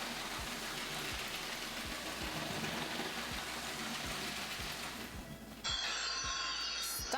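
A toy train runs along its track, with a steady, faint, regular clacking of wheels over rail joints under a constant hiss, then a brighter whirring rise near the end.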